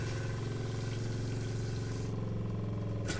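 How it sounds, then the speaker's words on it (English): A small RV water pump hums steadily inside a Rockwood A-frame trailer, driving pink antifreeze through the plumbing lines during winterizing, a close, continuous motor whine with a faint watery rush and a brief shift near the end. "So now we turn the pump on. You can see the antifreeze flowing into the system."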